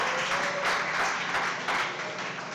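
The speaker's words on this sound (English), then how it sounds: "give BT a round of applause," A small audience claps for a contestant's dish at a chef showdown cooking competition, giving steady, moderately loud applause for a couple of seconds.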